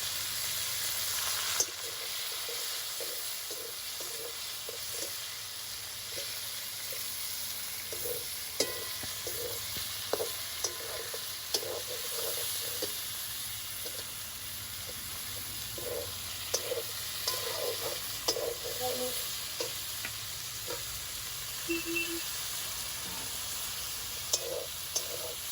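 Boiled jackfruit and boiled potato pieces sizzle steadily in a hot oiled pan, with occasional clinks and scrapes of a spatula stirring them, a continuous moderate frying hiss throughout.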